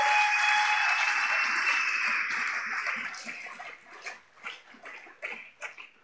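A church congregation gives loud, dense applause in praise of the Lord Jesus during a sermon, fading after a few seconds into scattered claps and murmurs.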